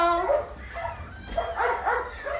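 A dog barks at an animal shelter, several sharp yips and barks coming in bursts, fairly close and loud, with a short gap between groups.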